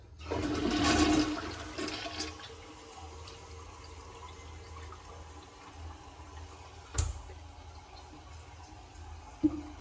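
A clogged toilet in a campground restroom flushes with a loud rushing surge at the start, then water keeps running and gurgling steadily, broken by a couple of sharp clunks.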